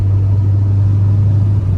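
A 23-year-old Mitsubishi Lancer driving, its engine giving a steady, loud low rumble with road noise that holds constant throughout, with no talking.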